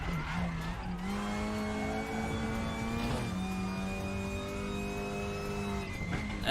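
A race car engine in the RaceRoom sim revs steadily, a clear tonal whine that climbs in pitch, dips around the middle, then rises again, sustained and fairly loud.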